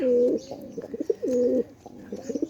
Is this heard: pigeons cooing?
yes